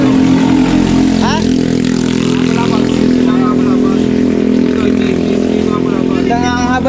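A habal-habal motorcycle taxi engine runs steadily at close range, holding a constant droning hum the whole time, while people's voices are heard over it.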